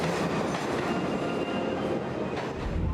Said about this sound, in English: So we're on the A train right now.